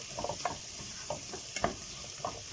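Onions and carrots sauté in melted butter in a pot for lentil soup. A steady sizzle runs beneath soft, irregular stirring scrapes and taps, close up, with no voices.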